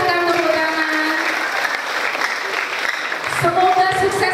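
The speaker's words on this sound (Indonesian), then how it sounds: "Silakan tepuk tangan." Students applauding together in a session, a sustained clatter of clapping mixed with voices and a teacher speaking over it.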